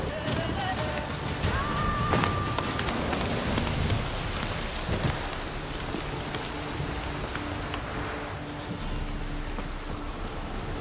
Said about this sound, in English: Stop raining, my arse will rot off.